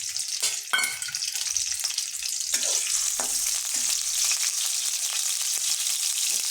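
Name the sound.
chopped onions frying in soybean oil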